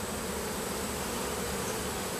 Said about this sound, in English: There is a bunch of good bees on the side of that.